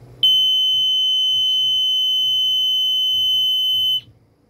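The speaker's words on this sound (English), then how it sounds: "Hopefully all the electrons will be going in the proper directions, and you'll hear a nice loud alarm." A Zwetke 12V water leak alarm emits one continuous, loud, piercing electronic tone for about four seconds, then cuts off abruptly over faint low background sound.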